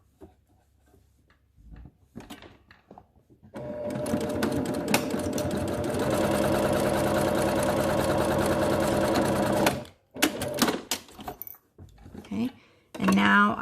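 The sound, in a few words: sewing machine stitching a children's fitted mask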